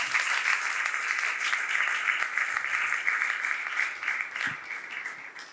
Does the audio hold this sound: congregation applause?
yes